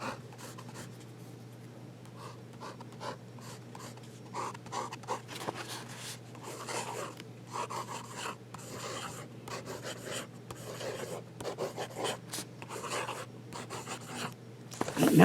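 A Hinze Pens Phoenix fountain pen writes on paper, producing close, continuous soft scratching strokes in irregular bursts, with a faint steady hum underneath.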